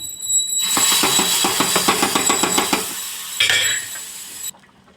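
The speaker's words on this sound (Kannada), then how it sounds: "ಡ್ರೈ ಫ್ರೂಟ್ಸ್ನ ಅಷ್ಟು ತುಪ್ಪದಲ್ಲಿ ಹುರಿದು ಹಾಕಿಬಿಡ್ತೀನಿ" Dry fruits fry in ghee for rice payasam while a metal spoon scrapes and clinks against the pan in a quick, regular rhythm, with a light sizzle underneath, then a few softer knocks before it falls quiet.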